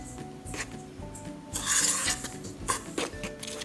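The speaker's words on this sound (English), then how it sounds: "You will also add in the yeast. And then you will give this a mix." Bread dough ingredients with yeast being mixed in a bowl, close scraping and rubbing with light clinks of utensil on dish, irregular strokes that swell louder midway, no talking.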